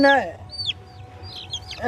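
A hen clucks close by in short, throaty bursts at the start and end, with faint high chirps and a voice in between.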